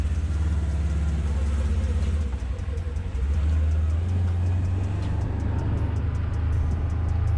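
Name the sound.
2022 Polaris General side-by-side driving in high gear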